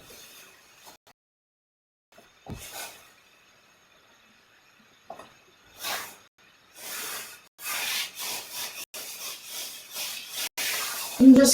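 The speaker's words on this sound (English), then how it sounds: "I'm just kind of rubbing it." Paint being rubbed onto a canvas during a live painting session, soft scattered rubbing strokes that grow into a rapid series of close, brushy swishes toward the end.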